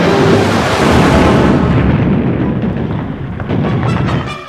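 Heavy artillery fire during the 1943 Battle of Kursk, a continuous loud rumbling roar of blasts and booms that blend together, with a dense low-end barrage that eases slightly toward the end.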